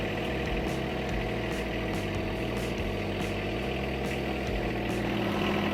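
A John Deere 1R compact tractor, a 1023E or 1025R, idles with a steady, fairly quiet engine rumble that holds an even, unchanging rhythm throughout and has no voices over it.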